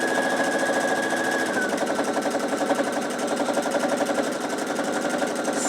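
A sewing machine fitted with a quarter-inch seam guide foot runs steadily and up close, its fast, even needle chatter humming along without a break and with no talking over it.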